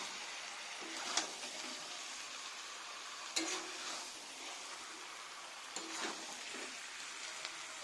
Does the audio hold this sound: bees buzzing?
no